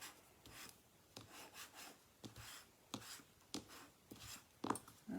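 Close, quiet rubbing strokes come from burnishing a piece into place on a handmade rose box. The scrapes are irregular and short, with small gaps between them.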